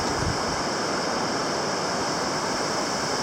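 The Little River flows beneath a trail bridge near the Husky Gap Trail on a Clingmans Dome backpacking route, a steady loud rushing of water with no pauses and no voices.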